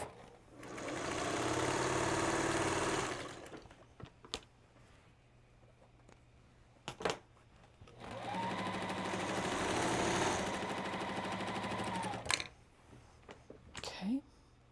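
A sewing machine stitches quilt seams in two long, steady runs of whirring, close and fairly loud, separated by a quieter gap with small handling clicks.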